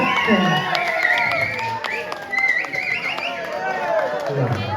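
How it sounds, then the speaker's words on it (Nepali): An audience at a political party unity rally claps hands amid shouting and chatter, with a busy, continuous mix of clapping and crowd voices. "सबैजनाले हातमा बजाइन्छ, ताली बजाइदिन्छ"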